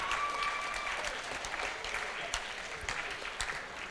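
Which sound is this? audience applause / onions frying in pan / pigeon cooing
audience applause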